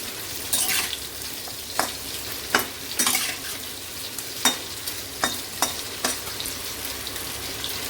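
Chopped vegetables with drumstick for a Bengali fish curry sizzle in a hot pan while a spatula stirs them, leaving a series of sharp scraping knocks over a constant frying hiss.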